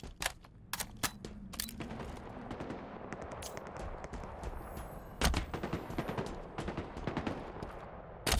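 Sharp, loud cracks of S7 sniper rifle fire in Halo Infinite, around eight shots spaced irregularly, ringing over quieter background gunfire and battle noise.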